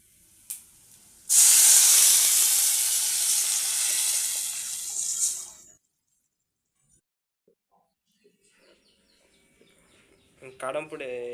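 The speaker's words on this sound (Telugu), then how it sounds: "ఇంకా వాటర్ పోద్దాం." Water poured into a hot frying pan of Maggi noodles bursts into a loud, close hissing sizzle that lasts about four seconds, then cuts to near silence with a few faint clicks and soft sounds.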